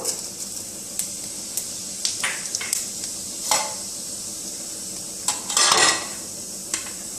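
Cumin seeds frying in a little oil for papad samosa filling give a steady bright sizzle, broken by repeated clinks and scrapes of a utensil stirring the pan, close up with no talking.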